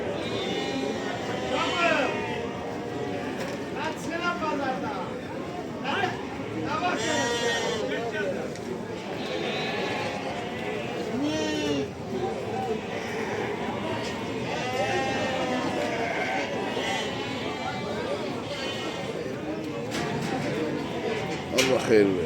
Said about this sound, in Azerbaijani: Qoyunlardır, əsəriyyətin heç şeysi yoxdur.